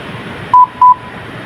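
Bluetooth speaker pairing tone: two short, clear electronic beeps in quick succession over a faint background hiss, with no talking.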